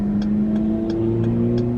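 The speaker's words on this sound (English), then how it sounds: "You hear that car, my lord." A car drives by with a steady mid-pitched engine drone and rising hum, loud and close, with a few faint high ticks over the constant rumble.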